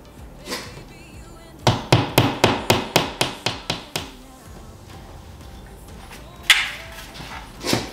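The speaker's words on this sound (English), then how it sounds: "nail and a hammer" A hammer drives a nail into an indoor wall for hanging artwork: about nine sharp, evenly spaced, close metallic strikes in quick succession, followed by a few isolated knocks and scraping.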